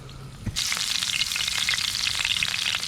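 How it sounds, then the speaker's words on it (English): Meat hits a pan of hot olive oil over an open fire and sizzles loudly, a steady hissing crackle that continues without any voices. "you can hear it sizzling up. That olive oil is nice and hot."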